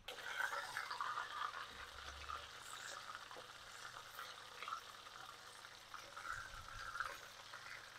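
Soft, continuous sizzling and crackling of low-carb Turkish-style meatballs with almond flour frying in a pan, fairly quiet, with faint clinks and no speech.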